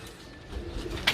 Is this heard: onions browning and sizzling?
no